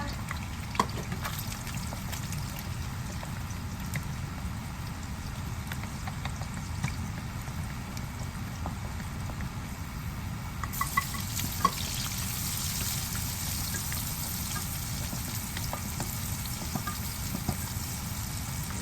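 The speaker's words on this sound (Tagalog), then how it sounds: "Okay, so start ako mag-gisa." Vegetables sautéing in a pan with chickpeas and beans, a steady close sizzle with occasional stirring scrapes running throughout, no talk.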